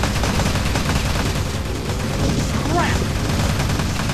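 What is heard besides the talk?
machine gun zombies firing in the video game Teleglitch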